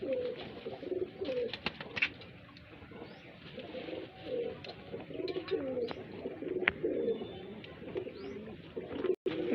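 Highflyer pigeons at a loft in Bareilly, Uttar Pradesh, cooing in soft repeated rolling phrases that overlap, with some flutters and clicks in the background and no talk.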